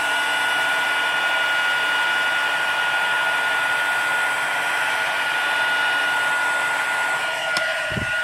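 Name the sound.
heat tool melting clear embossing powder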